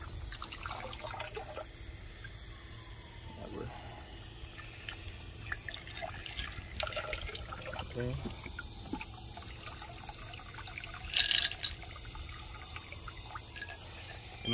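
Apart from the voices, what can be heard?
water being poured onto opal for treatment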